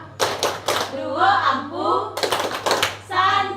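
Rhythmic hand claps for an Indonesian classroom clapping chant, a few sharp bursts at the start and again midway, with a teacher and pupils chanting between them.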